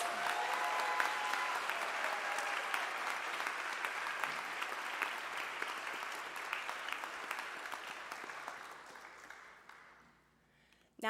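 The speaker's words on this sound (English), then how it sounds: "Let's give one more big round of applause for our nursing students." Sustained applause from an audience at a nursing white coat ceremony honoring nursing students, dense steady clapping that gradually thins and fades near the end.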